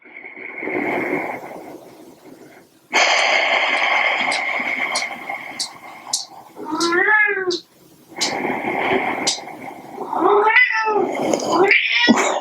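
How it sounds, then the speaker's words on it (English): Cats meow and caterwaul in a series of loud, drawn-out, wavering cries, with a near yowl around the middle and several more toward the end, heard during an indoor yoga session where someone talks between the cries. "It's not kids, it's cats, man."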